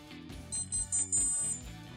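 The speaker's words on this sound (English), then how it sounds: "it will give some beeping sound, which means it is ready to use" A drone gimbal beeps after its initial calibration, signalling it is ready, with several short high tonal beeps in sequence over a low background hum.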